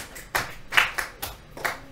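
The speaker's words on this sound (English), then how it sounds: "Let's clap for ourselves." A small group clapping for themselves, heard as a handful of separate, close claps spaced unevenly across a couple of seconds rather than a continuous round.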